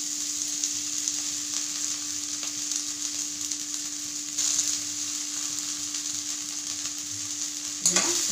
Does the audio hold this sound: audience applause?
no